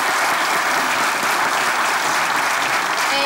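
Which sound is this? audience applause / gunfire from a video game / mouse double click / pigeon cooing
audience applause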